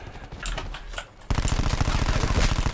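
Rapid automatic gunfire from the game Call of Duty Black Ops 4 comes as a dense, loud stream of bursts. The stronger sustained spray takes up the second half.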